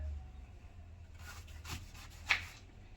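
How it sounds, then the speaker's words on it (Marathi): A knife slicing through a guava in a kitchen, a soft scraping cut building over a second and ending in a faint crisp snap, quiet and close with no talking. "आता हा पेरू कापून घ्यायचा"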